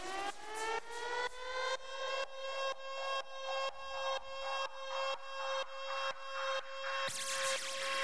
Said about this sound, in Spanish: crashes, razors y algo característico es la alarma de reggaeton